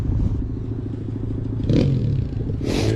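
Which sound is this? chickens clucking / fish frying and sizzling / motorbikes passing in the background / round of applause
motorbikes passing in the background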